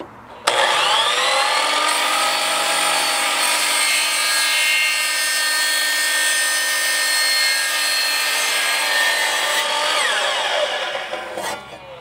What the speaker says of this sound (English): First, we gotta cut our 90-degree PVC pipe in half.